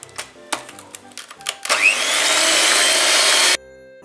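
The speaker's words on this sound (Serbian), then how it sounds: "nastavljamo da mutimo sa mikserom." Loud, steady whirr of an electric hand mixer beating chocolate cake batter after eggs are added, kicking in after some light clinks and running evenly for about two seconds before stopping sharply.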